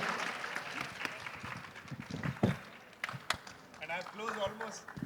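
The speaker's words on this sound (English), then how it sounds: "I think we can applaud from each one of them" Audience applause for panelists at a conference on people and adaptive organisations in the digital era, moderate clapping mixed with a speaker's voice and some clattering noise.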